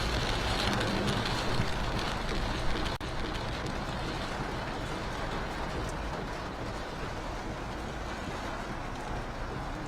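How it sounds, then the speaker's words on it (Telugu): Dense, steady hiss of heavy rain pouring down on Hyderabad without a break, with a faint knock partway through. "హైదరాబాద్ ను భారీ వర్షం కుమ్మేస్తోంది."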